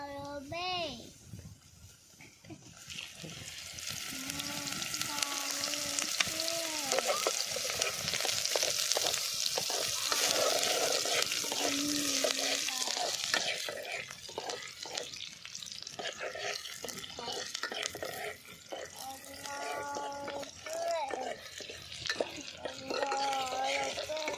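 Cooking oil sizzles and fries steadily in a pan outdoors in a village field, prepared for a family party with country chicken, with people talking throughout.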